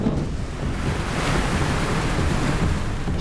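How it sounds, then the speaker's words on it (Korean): Rough, rising sea waves crash and spray against a fishing boat, a loud continuous roar of surf and rushing water mixed with wind buffeting the microphone, no voices. "시간이 갈수록 점점 거세지는 파도. 파도는 배 안까지 물을 뿌려댑니다."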